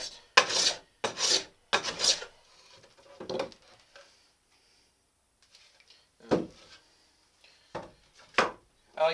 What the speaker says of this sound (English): This is the standard angle block plane.